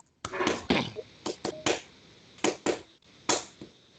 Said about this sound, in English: let me give you an example of how you clap real quick